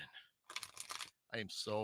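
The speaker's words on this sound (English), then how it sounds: "let me finish the shuffle" A deck of cards is shuffled in two quick, crisp rustling bursts, and a voice speaks briefly right after the shuffle.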